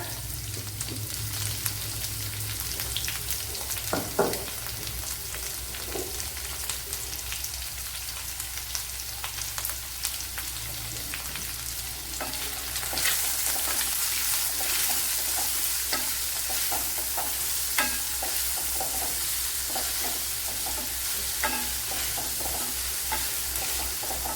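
A large sliced onion sizzles in hot oil in a pan with salt, cooking for a brinjal thoran. A steady, close frying hiss runs throughout, with occasional scrapes and taps from stirring.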